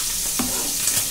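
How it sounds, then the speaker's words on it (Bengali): Small puti fish fry in a pan with a constant close hiss of hot oil. A brief stirring scrape breaks through the sizzle. "আর এই যে পুঁটি মাছগুলো ভাজছি।"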